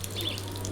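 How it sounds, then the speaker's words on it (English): Water trickling steadily from a small outdoor drinking tap, a brief close and fairly soft running stream with a low steady hum beneath it. "It's a little tap."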